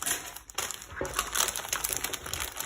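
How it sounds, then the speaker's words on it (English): Printed kit parts slid into a paper envelope, producing close, fairly loud paper crinkling and rustling with a couple of sharper shuffles, no talk. "I just slide all this stuff down into the envelope"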